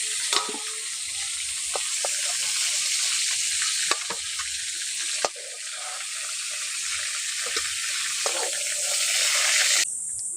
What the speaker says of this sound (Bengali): বাকি পটলগুলো ওই তেলের মধ্যে দিয়ে ভালো করে ভেজে নেব।